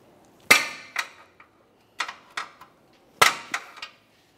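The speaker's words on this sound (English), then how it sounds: "We'll just use a hammer and a pry bar and get right up against that metallic clamp there and give it a loving bonk." A hammer strikes a pry bar braced against a metal clamp in a series of sharp, close metallic bonks, in irregular groups with short ringing tails and quiet gaps between.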